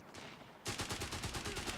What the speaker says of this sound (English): AT gun shot